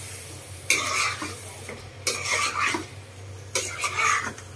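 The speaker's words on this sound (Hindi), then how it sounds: "अभी डालता अपनी मच्छी वाश की, शिवड़ा मच्छी, ओके, अभी इसको मिक्स एड करता हूं।" Shivda fish being stirred into red masala in a pan for Konkani-style fish curry, with three loud bursts of scraping and sizzling separated by short pauses over a steady low hum.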